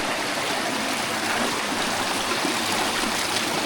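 Cold water pouring steadily from the broken end of a pipe, a loud, continuous rushing splash heard up close with no talking.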